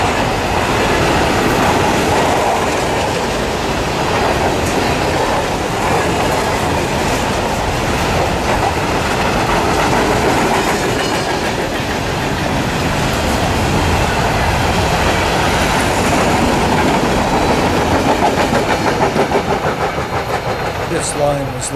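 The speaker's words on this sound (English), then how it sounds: "The world's longest train of empty grain cars eastbound towards Humboldt" A long freight train of empty grain cars rolls past steadily eastbound near Vonda, Saskatchewan, wheels clattering rhythmically over rail joints with a constant rumbling roar throughout.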